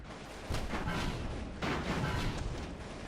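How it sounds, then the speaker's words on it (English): Cannon salvos from a slow, heavy airship in the game Airships: two booming volleys, each a broad rumbling roar that sustains for about a second, with no talk. "each salvo that it launches"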